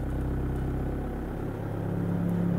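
Common rail diesel engine with a fuel pressure fault, running at idle with a steady low throb, then the revs rise slightly and the hum climbs in pitch, close and continuous.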